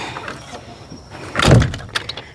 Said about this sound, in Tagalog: Sasara natin ang pinto.